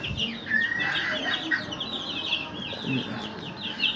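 Ispenç chickens and a rooster clucking and calling in a farm coop, several birds overlapping with sharp bright clucks and short cries, close and fairly loud, continuous across the whole stretch.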